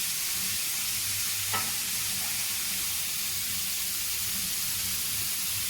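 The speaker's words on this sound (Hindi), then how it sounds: "ये फ्राई पैन लेके इन्होंने इसमें सब्जियां डाल दी हैं।" Vegetables frying in a pan without oil give a steady broad sizzle with a faint stir clink near the middle, even and close throughout, no talk.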